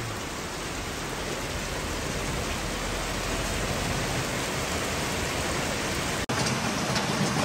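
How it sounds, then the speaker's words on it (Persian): Steady rain falling in Dushanbe, a dense, even hiss of drops that holds constant throughout with no voices. "با قدرت خدا باران به درجه عالیش گیری"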